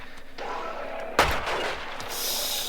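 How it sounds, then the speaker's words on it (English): Pistol gunfire in the video game Hellmet, one sharp shot near the middle followed by a crackling burst and a rising hiss, set over a steady game background hum. "Let's see how the pistol does against them."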